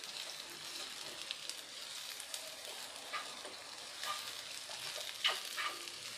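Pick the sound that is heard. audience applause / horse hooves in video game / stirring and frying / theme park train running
stirring and frying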